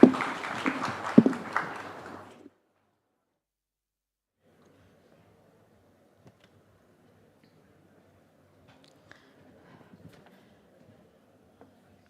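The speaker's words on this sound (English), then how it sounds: "A huge round of applause once again" Audience applause for the panelists closing a session at the NDTV Real Estate Summit 2025: a loud, dense burst of many hands clapping for about two and a half seconds, then it stops and only a faint, quiet room hum remains.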